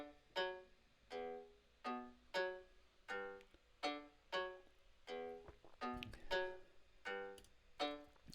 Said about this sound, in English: basic piezoelectric guitar